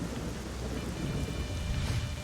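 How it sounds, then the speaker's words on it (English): Heavy rain hisses steadily through a thunderstorm, with low rumbling thunder underneath, close and loud and unbroken with no voices. "it is storming like crazy"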